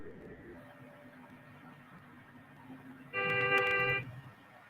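A loud, sustained electronic horn from a bus in the Trainz train-simulator game blares for about a second, rich in harmonics, over a dim background murmur.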